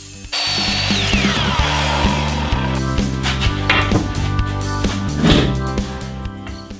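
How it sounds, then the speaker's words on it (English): A power saw cuts 1¾-inch strips from a pine board, its loud whining motor spinning up and then running steadily while the blade bites into the wood in grinding, rasping surges, with no talking. "Now I'm going to cut some 1¾-inch strips off of this piece of pine."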